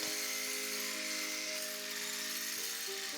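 Electric mixer beating egg whites with a clean dry whisk for a raspberry roll cake, a steady whirring hum with bright rattling overtones that shift slightly in pitch as the speed rises, continuous and close, no speech.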